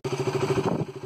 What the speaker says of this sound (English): the RC series, like RC 200 and RC 390, they have very mesmerizing sound, which is melodious